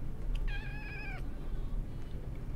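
A pet cat meows once, a clear harmonic cry lasting under a second, close by in a quiet indoor room with a steady low hum behind it.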